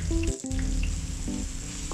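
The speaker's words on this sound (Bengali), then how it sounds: "পাঁচ ফোড়নটা ফুটে উঠলে আমি দিয়ে দিচ্ছি কাঁচামরিচ, মাঝারি সাইজের একটা পেঁয়াজ কুচি।" Green chillies and chopped medium onion hit hot oil with crackling five-spice seeds, a steady close sizzle filling the whole short stretch while a tonal musical backing plays underneath.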